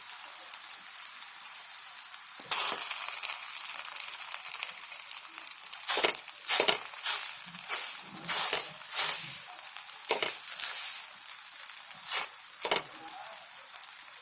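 A potato and vegetable flatbread roasting uncovered on an open griddle over high gas with ghee, giving a steady hiss and sizzle punctuated by bursts of spatula scraping and pressing, with no voices.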